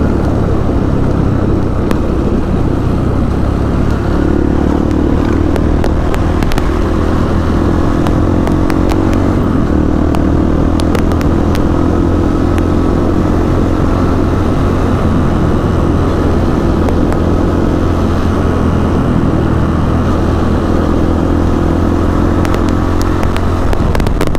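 Motorcycles and other traffic pass on a road in the Watulimo district of Trenggalek, a steady loud engine drone and rumble that stays close throughout, with no clear gaps between passing vehicles.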